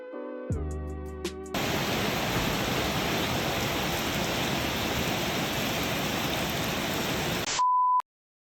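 Steady, dense rain hisses outside in the early morning on a hiking road trip near Chiang Mai, an even unbroken wash of sound after a few short tones at the start, ending abruptly with a brief beep.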